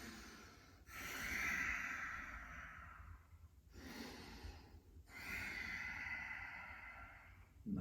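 Slow, deep breaths during a yoga pose come through as three long inhale-exhale cycles, close and soft, with audible nasal airflow and no talk.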